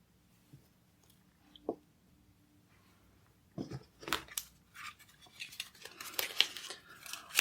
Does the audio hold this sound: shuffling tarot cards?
yes